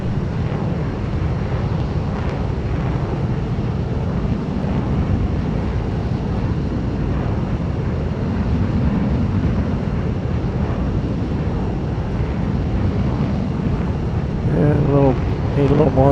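A small airplane flying at altitude over Peru drones steadily, loud low engine and propeller rumble mixed with wind buffeting, with a brief voice near the end.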